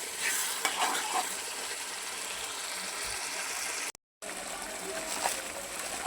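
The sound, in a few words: frying spices and pointed gourd while stirring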